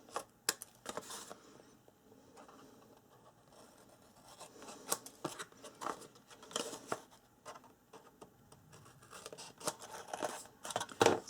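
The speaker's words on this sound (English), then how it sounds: "we're going to cut from this fold line to the other fold line to the corner of the edge, like that." Scissors snip through paper along fold lines while making a calendar book album: an irregular run of crisp, close cuts and rustles, sometimes in quick bursts, sometimes with short pauses.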